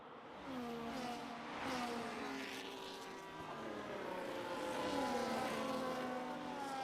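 Formula One race cars in a racing video game at the Canadian Grand Prix scream past with high, rising and falling engine whines, several overlapping cars sweeping by in a continuous, fairly loud stream with no talk.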